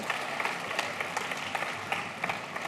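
An audience claps after a finalist's presentation at a London design competition finals event, with sustained applause of many hands and sharper individual claps standing out, filling the room without any speech.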